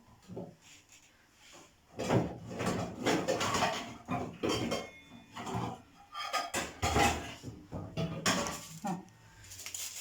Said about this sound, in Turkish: şimdi bir tane tencere alacağım.